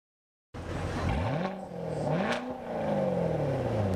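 A car engine at an outdoor car show revs up and holds a steady drone, rising twice in pitch, close and loud over broad road-like noise, with no one talking.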